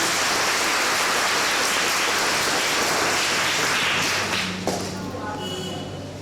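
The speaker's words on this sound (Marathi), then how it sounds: "त्यानंतर जो डान्स परफॉर्मन्स केला त्यांच्यासाठी पण खूप टाळ्या" Crowd applause at a computer lab inauguration for a children's dance performance, dense sustained clapping that thins out near the end while a voice begins speaking over it.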